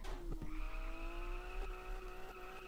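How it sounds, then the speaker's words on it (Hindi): Car drifting in the Car For Sale Simulator 2023 video game, its tires squealing in a long sustained screech over engine noise, close and continuous. "ये देखो भाई क्या ही ड्रिफ्ट है यार"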